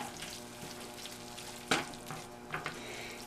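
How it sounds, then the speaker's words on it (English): A sloppy joe mixture with chopped fresh parsley sizzles in a pan while a spoon stirs it, soft scraping strokes with a sharp clack of the utensil against the pan, close and without talk. "Mix it one last time."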